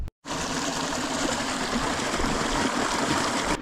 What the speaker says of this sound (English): It's hard to believe that big raging waterfall starts here, this tiny wee stream.